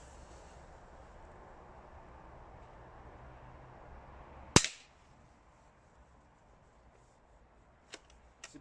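A Manu-Arm 9mm Flobert single-shot garden rifle fires once, a sharp, sudden crack that stands out against a quiet background, followed by a few faint metallic clicks.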